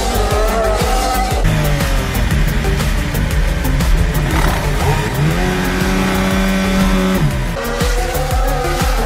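A Red Bull Formula 1 car accelerating hard at the Monaco Grand Prix, its high-pitched engine screaming and rising through the gears, loud and close with crowd and track noise behind, and a faint commentator voice.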